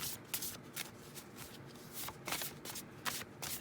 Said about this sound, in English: I'm doing the shuffling of the big cards on camera